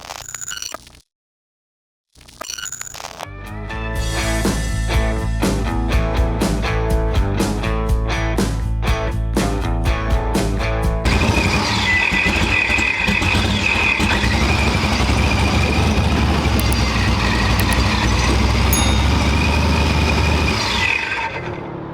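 A Procharged, supercharged Chevrolet COPO Camaro launches at a drag strip with a loud, sustained engine roar that builds steadily for about twenty seconds after a brief silence, its harmonic tones rising then giving way to broad high-pitched whine and rush.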